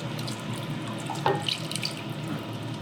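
Beef stock pours into a pot of bolognese sauce with tomato puree, a steady close liquid gush and splash with a few brief drips, running continuously with no voices.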